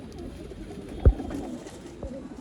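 A pigeon, an old line breed kept for sale in Bangalore, gives a short soft coo with one brief louder burst near the middle and a fainter note after, close against quiet background.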